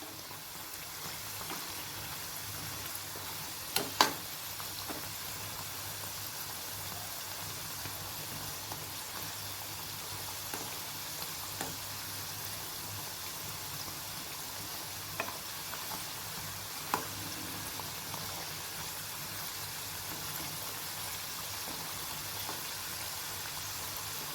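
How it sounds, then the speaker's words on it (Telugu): Folded madatha kaja dough pieces fry in oil and get turned until golden brown, making a soft, continuous sizzle with a few light clicks and taps and no voices. "అటు ఇటు తిప్పుకుంటూ గోల్డెన్ బ్రౌన్ కలర్ వచ్చే వరకు వేయించుకోవాలి బాగా"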